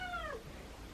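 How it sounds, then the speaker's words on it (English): A single faint cat meow indoors at night from a feral cat trapped for TNR, a short falling cry that fades into quiet room noise. "I immediately started hearing the meowing."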